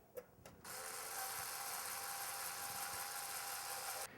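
A motorized screwdriver drives a screw holding an optical drive into the drive cage of a computer case. After a couple of faint clicks it gives a steady mechanical whir for a few seconds, then stops.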